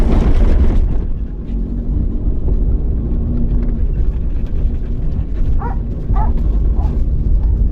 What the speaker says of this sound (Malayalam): അതിനെ കണ്ടിട്ട് രണ്ടാളും കൂടി ബേളാക്കുന്നുണ്ട്